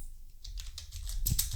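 Typing a prompt into DeepSeek on a computer keyboard, a quick burst of crisp, close key clicks that begins after a short quiet moment and grows denser toward the end, with no talk.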